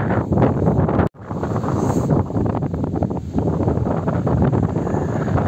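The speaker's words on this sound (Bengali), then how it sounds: "দারুণ হাওয়া দিচ্ছে" Strong wind beside a river in East Sikkim buffets the microphone in a continuous loud rumble, broken by one brief dropout, with no voices.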